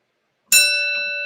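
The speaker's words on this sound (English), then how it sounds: "Did that bell wake everybody up?" A single bright bell strike, sharp onset followed by a clear sustained ringing tone that slowly fades, close and loud with no voices.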